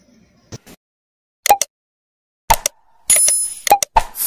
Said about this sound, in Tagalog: click the notification bell beside it for you to be updated with my latest uploads